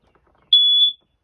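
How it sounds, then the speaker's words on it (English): A single piercing high-pitched smoke alarm test beep from an RV smoke detector sounds for about half a second, close and loud against near silence. "we check the smoke detectors to make sure they're working"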